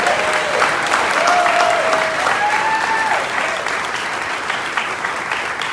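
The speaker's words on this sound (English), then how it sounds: "giving our educators a round of applause" An audience at the Neshoba County Fair in Mississippi applauds teachers steadily throughout, a dense wash of clapping that slowly eases off toward the end, with a few faint whistles early on.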